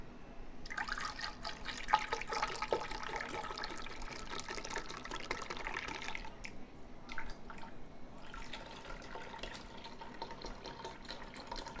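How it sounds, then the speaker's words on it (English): Bone broth pours from an opened container around the sides of a pot, a continuous splashing liquid stream with a brief pause midway before pouring resumes, close and fairly loud. "Now I'm just going to open up this bone broth. Pour it around the sides."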